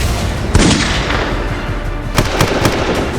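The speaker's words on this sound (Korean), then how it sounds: "중기관총이 불을 뿜어" Bursts of gunfire from a heavy machine gun and rifles in a dramatized Dokdo island defense, with loud sharp cracks at irregular intervals over a noisy, rumbling background.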